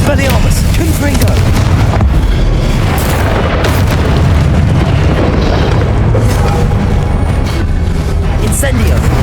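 Repeated Confringo fire spell explosions in the Hogwarts Legacy video game, a dense, loud run of booming blasts and bursts stacked over continuous combat effects with no pauses.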